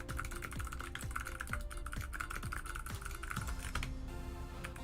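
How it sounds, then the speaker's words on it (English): Steady computer keyboard typing with rapid, uneven keystrokes that continue throughout. It runs over constant background music during a game-building session. "My typing, guys, is horrible."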